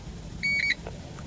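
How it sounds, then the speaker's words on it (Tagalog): A multimeter gives a short electronic continuity beep of about a third of a second while testing the normally closed contact of a Supremo 150 dual contact passing and high beam headlight switch, over steady background hum. "So nag beep sound siya dito, normally close."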